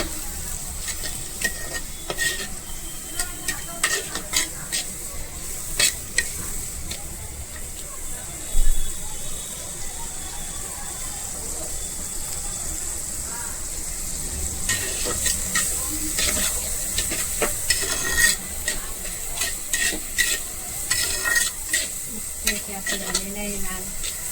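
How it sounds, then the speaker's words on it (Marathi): Garlic fries in a pan for matka chicken and is stirred until reddish; a moderate sizzle continues throughout, broken by frequent sharp spoon scrapes and clicks against the pan. "लसूण टाकायचे आहे मस्त तिथे असं लाल करून घ्यायचं आहे"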